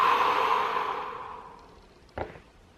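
A person breathing during a cervical and thoracic spine manipulation: a long, close exhalation fading over two seconds, followed by a short, sharp sniff or snort near the end.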